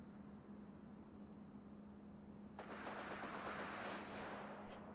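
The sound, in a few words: automatic gunfire in a video game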